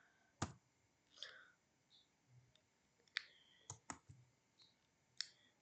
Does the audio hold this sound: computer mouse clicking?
yes